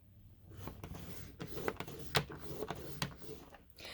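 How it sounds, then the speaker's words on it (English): A cardstock card base being scored at half an inch on a scoring board: soft, close scraping and tapping with a few sharper clicks, fairly quiet and irregular. "So I'm going to score at 1/2 inch."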